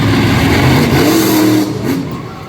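A Ford-bodied Godzilla monster truck engine revs hard at close range, a loud, sustained roar that holds steady for about a second and a half before easing slightly.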